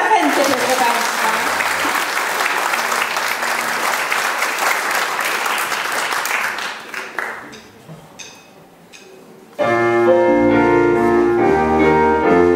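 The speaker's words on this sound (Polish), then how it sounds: "Duże brawa na zachętę, proszę Państwa." Audience applause at a concert in Siedlce, loud sustained clapping from a large crowd that fades out before music starts.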